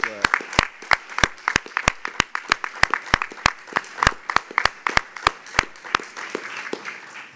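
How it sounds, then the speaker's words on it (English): A congress audience applauding in a hall, sharp claps falling in an even, rhythmic beat, loud and close, with a voice talking over them. "we would like to applaud you for your fantastic work"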